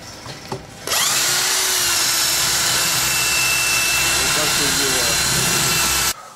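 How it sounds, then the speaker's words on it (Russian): A power drill whines loudly and steadily for several seconds while breaking up the fermentation cap of a date mash, starting abruptly after a brief quiet moment and cutting off sharply at the end. "сверлом сбиваю, несколько раз в день все это дело"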